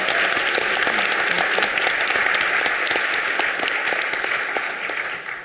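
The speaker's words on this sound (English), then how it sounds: "One more round of applause for Professor Michele Goodwin and her guests." An audience at a law school's annual Supreme Court term review event applauds, with dense, sustained clapping throughout that slowly fades toward the end.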